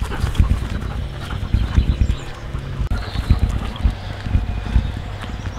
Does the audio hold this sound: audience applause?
no